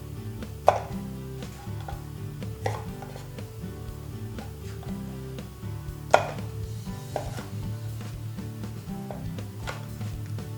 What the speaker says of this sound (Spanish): cortamos las patatas en trocitos